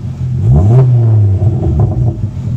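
A Ford Focus ST 225 Mk2 with a decat exhaust revs hard from idle into a loud rising rev that peaks and falls back into a close, rumbling burble, with no talking.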